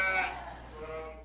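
A sheep bleats briefly at the start of a rural livestock scene during a wildfire evacuation, the cry quickly fading into a quiet, steady background.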